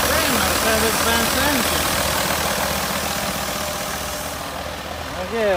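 The Mercedes-Benz diesel engine of a 2010 Thomas Saf-T-Liner C2 school bus idles steadily at close range, a low rumbling drone with some voices underneath.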